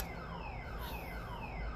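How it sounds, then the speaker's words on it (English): Car alarm going off somewhere outside, heard faintly from a distance as a continuous sweeping electronic wail cycling up and down in pitch. "I don't know who car alarm is going off, but it is going off."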